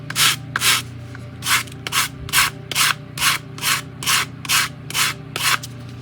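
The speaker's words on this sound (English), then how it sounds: "when we sand it down, it's actually going to mold and it's going to be perfect" Hand sanding of a wooden 1:100 scale ship model hull, about a dozen steady, rhythmic rubbing strokes close to the microphone.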